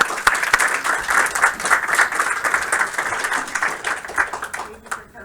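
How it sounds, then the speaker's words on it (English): Audience applause for a guest speaker at a school game studio build review, a close, steady burst of many hands clapping for about five seconds before tapering off abruptly. "So give our guest speaker a round of applause"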